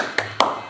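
Two sharp hand claps about a fifth of a second apart, a teacher's rhythmic classroom clap cheer, close and fairly quiet with a short room echo.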